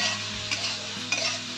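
Diced potatoes frying in a cooked spice paste for egg curry, stirred with a utensil; a steady close sizzle with a few distinct scraping clinks of the spoon against the pan, no voices.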